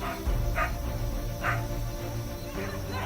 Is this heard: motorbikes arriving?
no